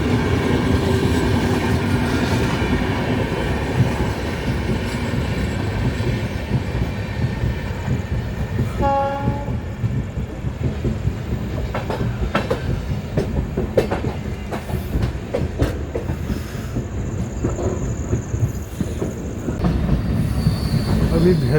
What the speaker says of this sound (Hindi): हमारा ट्रेन अभी तक एक्सेलरेशन ठीक से नहीं पकड़ा है। वो पकड़ चुका है